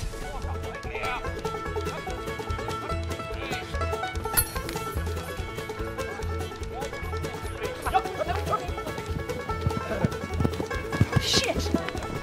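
Horse hooves clip-clop in a steady rhythm during a riding training session, with people talking and calling out over the hoofbeats.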